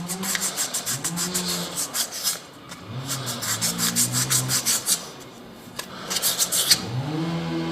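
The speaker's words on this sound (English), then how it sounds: "This is fine sanding paper, grade 500." Close, rhythmic back-and-forth rasping of grade 500 fine sandpaper rubbing a surface by hand, stroke after stroke, with a faint squeaky tone underneath.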